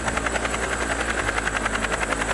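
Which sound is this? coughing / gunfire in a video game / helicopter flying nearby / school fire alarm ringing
helicopter flying nearby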